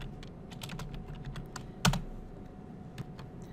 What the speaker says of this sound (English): let's type the name back